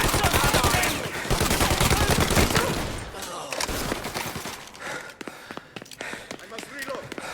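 Gunfire in Mafia: Definitive Edition, with rapid, loud bursts of automatic shots packed densely for the first three seconds, then sparser single cracks and a few thuds, and shouting voices heard among the shots.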